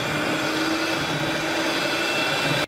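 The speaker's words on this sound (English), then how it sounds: "we're just going to whisk it all in until smooth." Electric whisk mixing mascarpone with sweetener for a keto raspberry mousse, a loud, steady, unbroken motor whir that runs close and continuous without speech.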